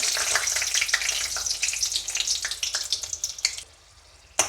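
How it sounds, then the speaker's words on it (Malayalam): Dried red chillies dropped into hot coconut oil crackle and sizzle loudly and close, with sharp pops over a dense hiss that fades to quiet near the end before one final clatter. "ആദ്യം നമുക്കിതിലേക്ക് വറ്റൽമുളക് ഇട്ട് കൊടുക്കാം"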